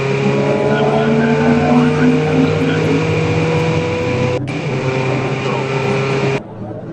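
Race cars, a Golf TDI and an Audi TT TFSI, run at Silverstone GP during a Britcar Trophy race. Engines drone loudly and steadily with shifting tones under a commentator's talk, then drop off abruptly near the end.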